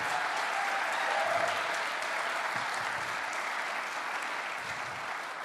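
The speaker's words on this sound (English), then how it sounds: "if you could stand up, we'll give you a round of applause" Applause from a crowd at a recovery meeting, a continuous, even patter of many people clapping, somewhat distant and soft, fading slightly as it goes on.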